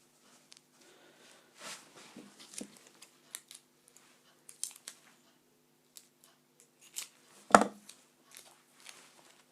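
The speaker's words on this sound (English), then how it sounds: "I'm just going to trim this tape." Scissors trimming tape on a stencil make scattered close snips and crinkles in a quiet room, with one sharp louder snip near the end.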